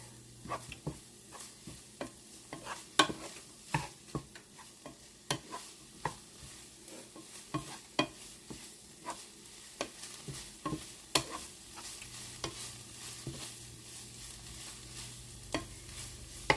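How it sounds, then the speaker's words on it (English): Garlic sautéing in a pan, a faint steady sizzle punctuated by regular sharp clicks and scrapes of a utensil stirring, close but quiet, with no talking. "I'm going to let that saute in there just for maybe a minute or less, just till it becomes fragrant"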